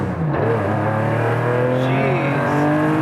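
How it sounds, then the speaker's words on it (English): Lightweight air-cooled Porsche 911 engine pulling hard under acceleration, a loud, close flat-six snarl with clearly rising harmonics that climb steadily through the revs. "It pulls so crazy for an air-cooled 911."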